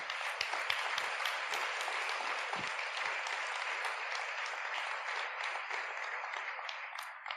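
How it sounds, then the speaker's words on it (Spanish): A church congregation applauds in a long, even wave of clapping that sounds distant and fairly quiet, with a few sharper individual claps standing out. "¿Cuántos pueden darle un aplauso fuerte al Señor?"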